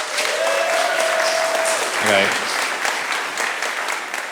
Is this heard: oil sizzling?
no